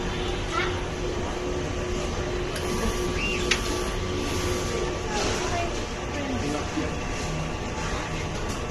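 An inkjet printer prints a nozzle check in a fabric printing workshop, giving a steady mechanical whir and hum with faint clicks throughout.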